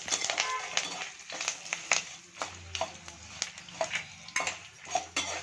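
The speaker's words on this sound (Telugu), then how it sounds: "కొంచెము వేగిన తర్వాత ఇంగువ వేసుకొని బాగా కలుపుకోవాలి" Spoon scraping and clinking through a frying tamarind pulihora mixture as asafoetida is stirred in, with repeated close metallic taps and scrapes against the pan over a low sizzle.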